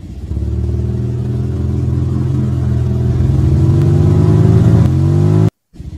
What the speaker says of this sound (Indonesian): nyala lampu dan suara motor terdengar.